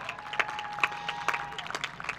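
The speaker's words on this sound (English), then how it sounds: "Please give them a round of applause." A graduation audience gives a modest round of applause, scattered distinct claps from individuals spread through a roomy space, fairly light and uneven over a faint steady tone.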